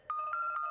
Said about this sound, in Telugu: సీను ఏంటి నాకు ఫోన్ చేశాడు?